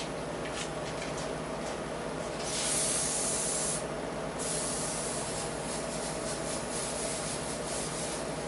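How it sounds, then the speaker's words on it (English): A steady, close hiss of spray cleaner blasting through a grimy brush in an auto repair shop, continuous for several seconds with a slight swell partway through and no talk. "I'm going to go spray this brush out and gunk this out."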